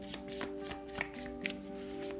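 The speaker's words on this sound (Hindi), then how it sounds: "तो चलिए शफल कर लेते हैं पाइसेस मीन" Tarot cards being shuffled by hand, a soft, close riffling and tapping that repeats in quick irregular strokes over a steady low hum.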